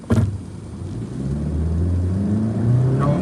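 A car on a road accelerates steadily toward a traffic signal, its engine rumble rising in pitch and loudness across the clip after a brief bump at the start; no one speaks.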